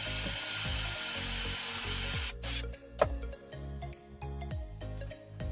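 A Makita 18V impact drill-driver with a 10 mm bit bores into a wooden board at low speed: a steady motor whine with rough grinding and scraping, then a sharp crack partway through, continuing as choppy rasping.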